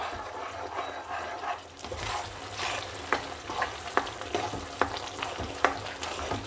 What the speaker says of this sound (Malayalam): ഇനി നന്നായിട്ട് ഇളക്കി കട്ടിയാക്കി എടുക്കണം.